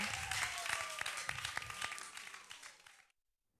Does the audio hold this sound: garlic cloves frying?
no